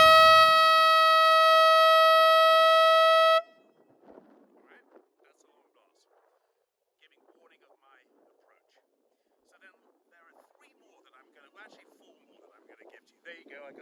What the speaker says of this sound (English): the first one is the prolonged blast, 4 to 6 seconds, sounds like this